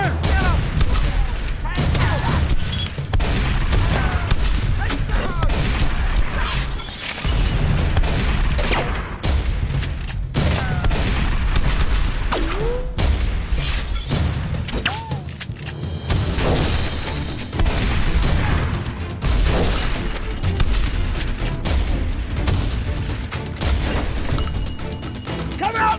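Dense action-movie battle gunfire and explosions, continuous rapid shots and booms with mechanical clatter for the whole stretch, loud and close, with shouted voices mixed in.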